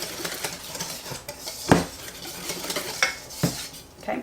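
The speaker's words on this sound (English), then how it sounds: "grated Parmesan cheese. We're going to whisk all that together." Raw eggs and grated Parmesan are whisked together in a bowl for a carbonara sauce, producing close, rhythmic metallic clinks and scrapes against the dish, with a few sharper knocks.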